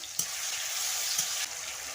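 Spice paste with tomato, onion and salt sizzles steadily in hot oil in a pan as the base for a rohu fish curry with potato, a continuous close frying hiss with two brief louder stirring bursts.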